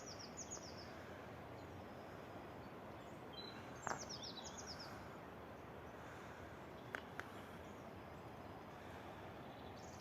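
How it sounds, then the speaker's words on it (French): Faint high chirps and short trills from birds at a distance, scattered over a steady outdoor hush, with no talking. "Avec le chant des oiseaux, écoutez-moi ça."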